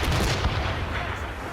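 Ship cannons fire in naval combat in Assassin's Creed Rogue, a loud, booming volley of overlapping blasts that roll into a sustained rumble.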